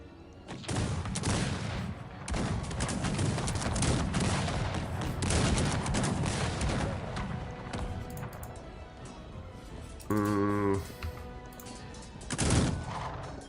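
Massed musket volleys from infantry units in the real-time strategy game Cossacks, a dense continuous crackle of overlapping shots with a louder burst near the end.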